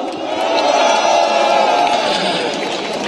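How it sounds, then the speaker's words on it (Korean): A crowd at a candlelight protest rally cheers and applauds to welcome a lawmaker to the stage, a steady roar of voices and clapping throughout. "큰 박수로 맞이하겠습니다"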